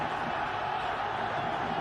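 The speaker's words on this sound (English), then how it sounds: "It's loud. It's exciting here. The crowd on their feet." A cricket stadium crowd during a Sri Lanka versus Afghanistan one-day international roars in a steady, dense wash of cheering that holds at an even level throughout, with faint commentary woven underneath.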